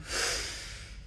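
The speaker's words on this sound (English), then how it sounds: "Try to control the breathing through your nostrils, in and out through your nose today if you can." A single short, soft breath is drawn and pushed through the nose during a movement conditioning exercise, close by and quiet, with no speech.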